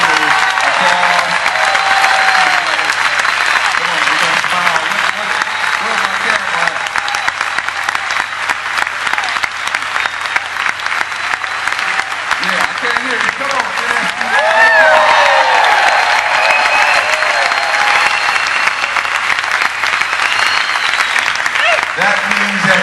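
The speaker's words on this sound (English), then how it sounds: "Give this young man a round of applause." Sustained applause fills a school district board meeting as the room claps for a young man, steady and fairly loud throughout, with some cheering and voices mixed in.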